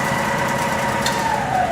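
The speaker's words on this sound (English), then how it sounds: "So I'll turn the drill on." A drill press motor starts and hums steadily at close range with a constant whine that climbs slightly in pitch near the end, running alone without voices.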